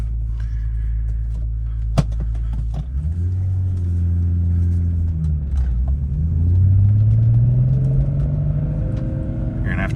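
A 1993 Volkswagen Corrado SLC VR6 heard from inside as it idles, then pulls away with rising engine pitch through gear changes on a short drive around the block, fairly loud and close.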